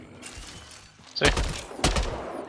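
Gunfire from the Valkyrie rifle in the video game Mass Effect Andromeda: two loud, sharp bursts about half a second apart, each with a ringing tail, over a low hum of game ambience.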